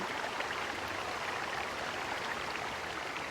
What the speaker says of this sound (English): You hear running water and see a small stream that carves its way into the mountain.